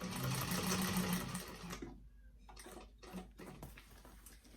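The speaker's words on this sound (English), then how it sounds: "So you are actually sewing through that flat panel on the inside." A sewing machine stitches through the flat inner panel of a vintage-style expandable tote bag, running in a steady loud burst for nearly two seconds, then stopping, with a few brief stitch runs after the pause.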